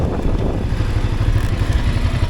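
A Ducati motorcycle braking hard on sand during a riding-academy drill, its engine clattering and rumbling steadily at close range with gritty mechanical noise and no talking.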